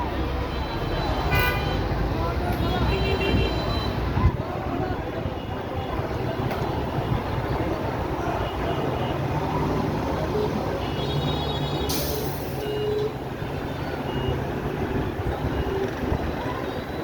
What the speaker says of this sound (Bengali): তন্তর বাজারে কত গাড়ি